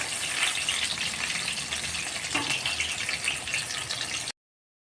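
Prawn-stuffed pointed gourd chops frying in a pan give a steady, dense sizzle with bubbling oil, close and loud throughout, then cutting off abruptly near the end.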